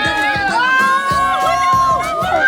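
Spectators at the Tokyo Legacy Half marathon cheering on runners, a close, lively mix of shouts, whoops and excited voices that overlap continuously without pause.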